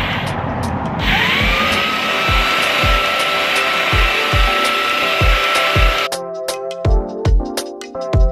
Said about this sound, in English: so now it just all needs sanding down